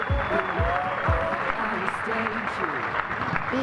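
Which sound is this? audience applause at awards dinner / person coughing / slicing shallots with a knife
audience applause at awards dinner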